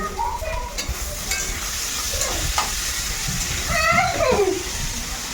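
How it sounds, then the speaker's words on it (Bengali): Potatoes fry in a pan on a home stove, giving a steady close sizzle broken by stirring scrapes, with a few brief tonal chirps in the background. "আলু ভাজাটা আগে বসিয়ে দিই"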